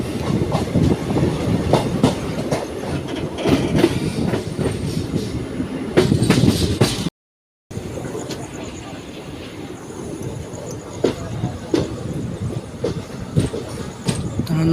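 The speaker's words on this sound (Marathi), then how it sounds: "गाडी आपली टर्न मारते" A train rattles along the tracks near Igatpuri with rhythmic clickety-clack and metallic squeals as it takes a turn, loud and close, broken by a brief silent gap midway.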